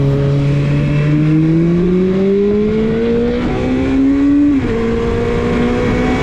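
A loud motorcycle engine revs up steadily in traffic, its pitch climbing through the gears with a brief shift drop near the end, close and continuous with no voices.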